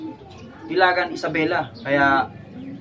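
Racing pigeons coo in a few soft bursts close by, with someone talking over them near the start.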